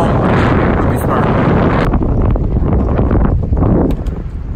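Strong, cold wind at a marina roars and buffets the microphone continuously, loud and rumbling, with gusts swelling and easing slightly toward the end.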